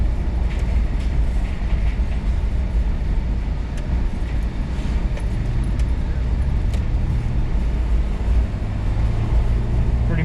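A delivery vehicle driving on an empty lockdown road makes a steady, loud rumble of engine and road noise from inside the cab, with faint bumps and clicks and occasional talk.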